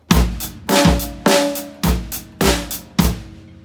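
A drum kit plays a short groove: six strong kick-and-snare hits with softer hits between, in a steady looping rhythm, clear and close.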